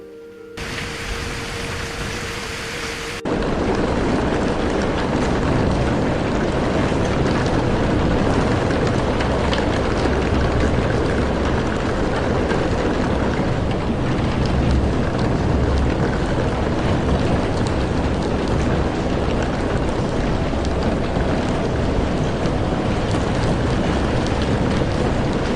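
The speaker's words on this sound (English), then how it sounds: "Listen to that storm." A storm in the video game Azarine Heart: dense, steady rain and wind roar loud and continuous, following a short, quieter lead-in with a faint tonal hum.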